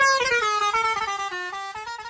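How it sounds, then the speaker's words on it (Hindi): A loud car horn blares continuously as the car speeds away, its tone sliding gradually lower in pitch over about two seconds. "वहीं जब ये तुमसे दूर जाती है तो हॉर्न की आवाज लो पिच में बदल जाती है"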